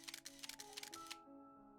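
Camera shutter snapping photos in Genshin Impact: a quick run of several crisp clicks over a steady music bed, then the clicks stop and only the music carries on.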